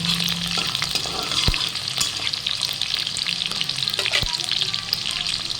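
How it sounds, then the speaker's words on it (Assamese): Onions fry in oil with dried chillies and bay leaves, browning for a chicken dish: a close, continuous hissing sizzle with a few sharp knocks of a stirring spoon against the pan. "এতিয়া পিঁয়াজখিনি ৰঙচুৱা হোৱালৈকে ভাজিব লাগিব"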